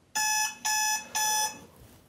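Three bursts of a bright electronic alarm clock ringing, each about a third of a second with short gaps, loud and clear against a quiet background, used as a sound effect in a spooky ghost story about a monk.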